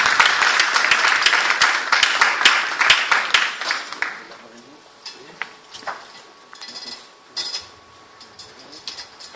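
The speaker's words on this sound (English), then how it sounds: "So please give Mr. Saghir a round of applause" An audience at a Kashmir-themed gathering breaks into brisk applause that fades after a few seconds into sparse, scattered claps and light clinks over a quieter room.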